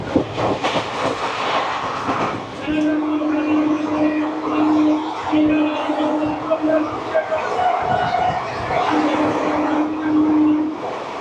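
Kandari Express (22897) from Howrah to Digha running on the rails through Bhuktipara station, a steady rumbling roll with a sustained tonal whine riding over it, close and continuous, with faint crowd murmur inside the carriage.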